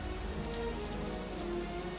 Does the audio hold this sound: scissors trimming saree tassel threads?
no